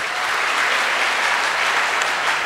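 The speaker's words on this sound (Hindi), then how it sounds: "मैं चाहता हूँ AWPL की जबरदस्त तालियां होनी चाहिए।" An audience at a Hindi-language AWPL motivational speech in Lucknow bursts into loud, steady applause, a dense and continuous patter of many hands with no break.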